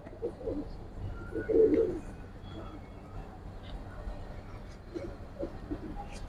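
Pigeons, a pair of red-marked birds in a loft, coo softly in low, rounded bursts, one fuller call standing out, with faint chirps and background murmur around them.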